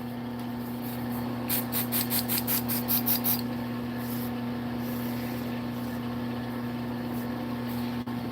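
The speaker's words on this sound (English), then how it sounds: "Give it a little accelerator spray." A few quick hissing bursts of accelerator spray on a spinning woodturning top, set against the steady hum of the running lathe, then the motor carries on alone.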